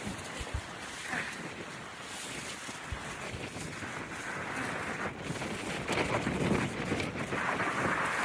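Steady, rushing wind roars across the microphone for the whole stretch, growing slightly louder toward the end, with no voices.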